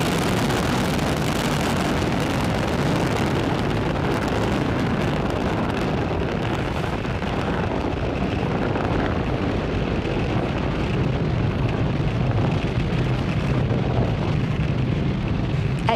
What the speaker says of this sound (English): Falcon 9 has successfully lifted off from Pad 40 at Cape Canaveral Space Force Station, carrying the Merah Putih Dua payload